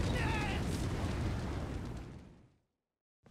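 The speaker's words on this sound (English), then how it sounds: "he's gonna breathe fire now" A dragon breathes fire in Elden Ring at Stormveil Castle, a loud, broad roaring blast that holds steady for about two seconds, then fades away into silence.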